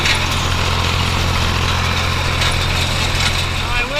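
A tractor pulling a New Holland 565 baler runs steadily through a hay field, a loud continuous engine drone with a mechanical hum underneath, and someone talks over it.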